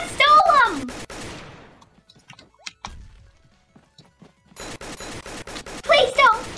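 Pistol shots from a Roblox ragdoll game ring out as a few sharp, loud cracks clustered at the start and again near the end, with a quiet stretch between and voices talking over them.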